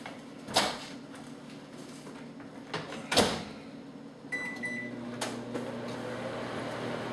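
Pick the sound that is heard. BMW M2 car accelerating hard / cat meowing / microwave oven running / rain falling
microwave oven running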